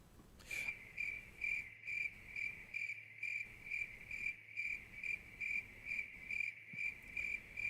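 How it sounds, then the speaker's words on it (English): Steady cricket chirping, a bright pulsing trill repeating in regular bursts about twice a second, fairly faint and close with no voices over it. "Do you have a cricket sound effect?"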